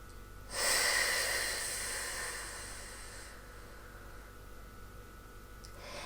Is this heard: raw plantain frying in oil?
no